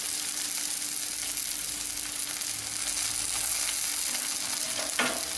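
Shallots sizzle and fry steadily in sesame oil for a Tamil kara chutney (hot chilli onion chutney), a dense continuous crackle close by with no one speaking.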